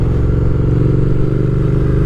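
A 2020 Triumph Speed Twin motorcycle's engine drones loudly and steadily while riding, a close, throbbing low rumble with even pulsing throughout.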